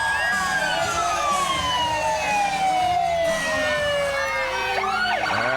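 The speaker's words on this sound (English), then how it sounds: "cranking up the sirens to get everyone pumped along with the music." Wailing emergency vehicle sirens sweep downward and rise again, loud and sustained, layered over a busy outdoor crowd murmur at a winter carnival Mardi Gras parade in downtown McCall, Idaho.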